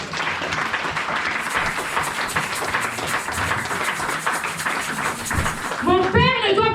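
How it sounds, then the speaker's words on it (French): Applause from a church congregation in Toulouse fills the whole stretch, dense, steady and close, during a women's sermon service; near the end a voice rises over the clapping. "Est-ce que tu peux acclamer le Seigneur?"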